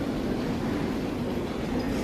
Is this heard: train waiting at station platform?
yes